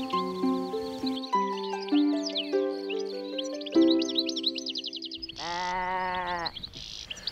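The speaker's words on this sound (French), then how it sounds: "La brebis qui vient de bêler, c'est la leaduse." Out in the countryside in spring, a ewe in a flock of sheep gives a single loud, wavering bleat that lasts about a second. Melodic music plays before it, with birds chirping faintly behind.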